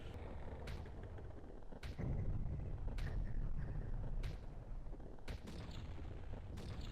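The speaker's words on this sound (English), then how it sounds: "the fireworks are going off" Midnight fireworks over Clock Town in The Legend of Zelda: Majora's Mask, a string of sharp bursts and pops spaced a second or so apart over a steady low rumble, fairly quiet and distant.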